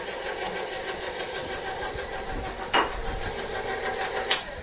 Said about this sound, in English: Mix it on a very low speed.